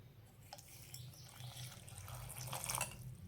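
Water poured into a cooking pot of spices for a tamarind-shoot dish in a home kitchen, a faint soft splashing and trickling, quiet and close, building slightly toward the end.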